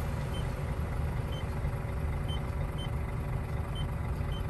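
A Scania truck's engine runs steadily at idle, a dense low rumble filling the cab without pause, with a faint, regularly repeating high beep in the background.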